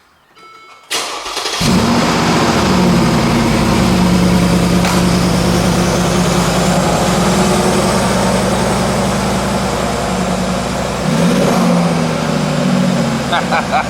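A Mercedes G-Wagon with a stock exhaust starts up and settles into a steady, loud, deep idle that holds for over ten seconds, close by, with a slight dip and recovery near the end.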